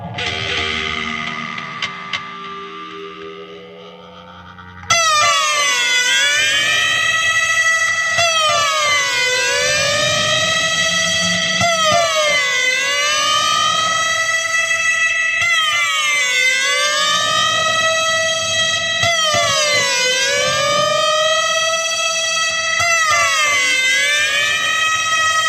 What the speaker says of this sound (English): The sound of the alarms after the tsunami hits.